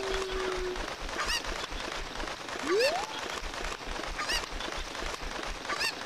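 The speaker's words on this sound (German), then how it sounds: "Vielleicht einfach das Huhn hier drüber schmeißen" Game chicken in a hacked Ocarina of Time (Zelda) squawking in short repeated calls about every 1.5 seconds, one with a rising whistle-like slide, over a steady game backdrop.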